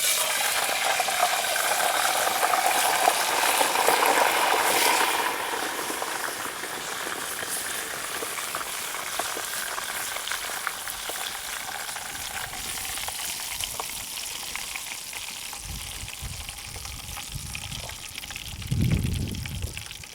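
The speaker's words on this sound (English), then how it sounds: "My plan is to pour all the bacon grease into this little pan." Hot bacon grease sizzles and crackles steadily in a pan, loud at first and easing to a softer fry, with a brief pouring and clattering sound near the end.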